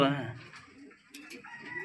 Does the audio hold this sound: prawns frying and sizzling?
no